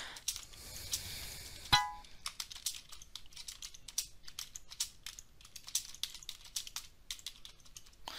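Typing on a computer keyboard during a typing tutorial, with a fast, uneven patter of close key clicks and a single louder clack early on, all without voices.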